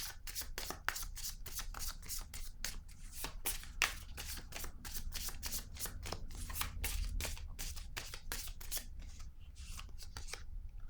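Playing cards shuffled and drawn from a deck, a dense run of crisp riffling slaps and flicks, close and steady, with no talking.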